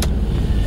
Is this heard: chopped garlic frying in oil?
no